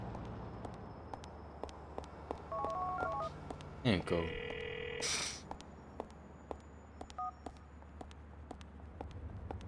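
In the game Grand Theft Auto IV, a mobile phone plays a quick series of dialing tones, then a longer held ring tone, amid ticking game sounds, while a person briefly speaks.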